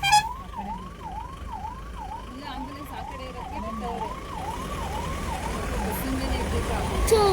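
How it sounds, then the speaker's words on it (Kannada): A wailing siren rises and falls in a steady repeating cycle, fairly distant, over a low background rumble of traffic. "ಅಲ್ಲ ಆಂಬುಲೆನ್ಸ್ ಐತೆ"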